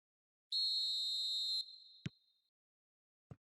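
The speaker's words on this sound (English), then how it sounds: "There's the whistle, and here we go." A referee's whistle in the football video game PES 2021 blows one long, loud, steady shrill blast, followed by a few faint soft knocks.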